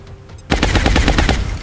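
Rapid-fire gunfire from XCOM: War Within bursts in after a brief quiet moment, a fast run of about a dozen loud, punchy shots in quick succession.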